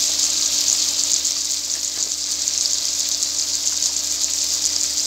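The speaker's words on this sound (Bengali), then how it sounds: "এখানে আমি পেঁয়াজ, কাঁচামরিচ, রসুন, হলুদের গুঁড়া, মরিচের গুঁড়া, রুই মাছের তেল দিয়ে সুন্দর করে কষিয়ে নিচ্ছি।" Onion, green chili, garlic, turmeric and chili powder sautéing in rohu fish oil in a pan, a steady bright close sizzle and frying hiss running throughout without talk.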